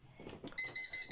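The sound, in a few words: alarm beeping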